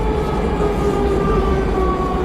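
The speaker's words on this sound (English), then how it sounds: "this seems like a normal fucking subway" A subway train runs loud and continuous, a steady rumbling roar with sustained whining tones on top that holds unbroken throughout.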